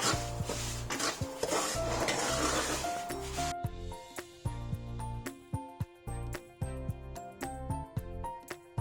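Semolina roasting in about 60 grams of butter in a pan while being stirred, with close scraping and clinking of a utensil against the pan, busy at first and then settling into separate rhythmic strokes.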